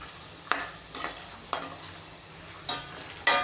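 Peanuts fry in oil in a pan while a spoon stirs them, giving a soft sizzle under about six sharp close scraping strokes spaced through the clip.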